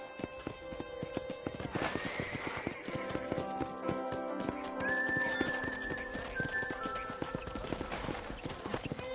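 Horses at a ranch corral in Red Dead Redemption, hooves clip-clopping steadily nearby with a brief whinny and faint ambient tones in the background.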